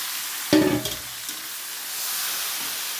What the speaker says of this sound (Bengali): ভাজা হয়ে গেছে এবার আমি চিকেনটা দিয়ে দিলাম